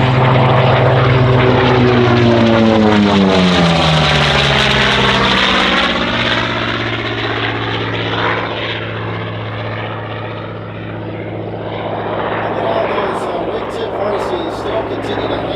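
Hawker Sea Fury making an airshow pass in London, its 2,400-horsepower piston engine and propeller roaring loud and close, the pitch sweeping down as it passes, then a sustained drone fading and swelling again.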